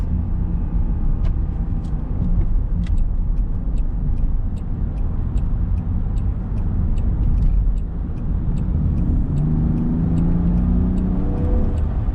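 A Land Rover Defender 90 cruises on a road at highway speed, a steady loud rumble of engine, tyre and wind noise with faint intermittent ticking, no talk.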